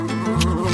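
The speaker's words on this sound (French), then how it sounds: "les abeilles" Bees buzz loudly and close, a steady droning whine with shifting pitch around honey jelly.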